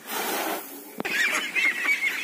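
Domestic farm ducks kept by a duck raiser call out in a loud, nasal, honking burst close by, just after a sharp knock, then continue with a few rough repeated calls.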